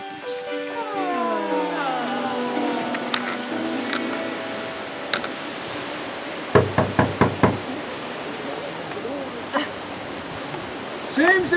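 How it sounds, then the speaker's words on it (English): A quick run of about five firm knocks on a door, with single taps before and after, follows a swell of orchestral film music and sits in a quiet room with faint background hiss. "Seems to be somebody knocking at the door."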